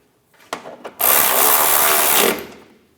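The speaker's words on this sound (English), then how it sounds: "And get these bolts started underneath. Tighten those down." Bumper cover bolts being run down underneath a 1997-2001 Honda CR-V, a short burst of close ratcheting and rubbing at first, then a long steady buzzing rasp of the tool spinning, ending abruptly, no talk.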